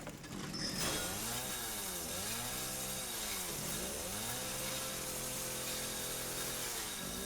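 A chainsaw in the horror game Resident Evil 7 runs loud and continuous, its motor pitch swooping up and down in repeated revs throughout, with no one talking.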